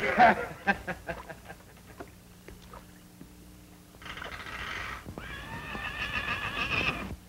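A horse whinnies loudly nearby, a long shrill neigh with a fluttering tail, preceded by scattered knocks and background clatter.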